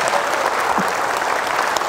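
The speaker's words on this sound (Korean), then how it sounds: "박수 한번 쳐주세요" An audience at a Mungyeong city academy lecture breaks into applause: a dense, even clapping from a crowd that fills the whole stretch.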